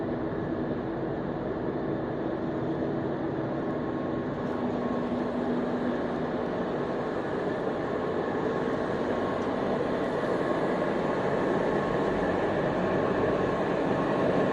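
An EPE foam sheet extruder machine runs in a factory with a steady, dense mechanical roar and a faint hum, continuous at constant loudness throughout with no talk.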